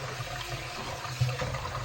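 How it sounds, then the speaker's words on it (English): Cool tap water runs over a head of lettuce, a steady splashing rush close by with one brief louder spatter midway. "you can even run the cool water on the top half if you see any more in the crevices there"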